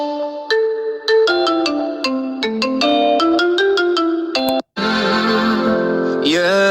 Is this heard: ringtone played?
yes